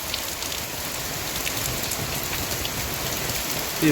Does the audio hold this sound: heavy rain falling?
yes